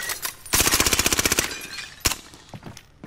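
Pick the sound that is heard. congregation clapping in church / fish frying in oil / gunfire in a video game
gunfire in a video game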